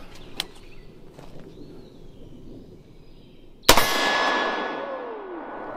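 A single SIG M400 rifle shot rings off a steel target at an outdoor range, a sharp crack followed by a bright metallic clang that hangs and fades over a few seconds, with faint clicks beforehand.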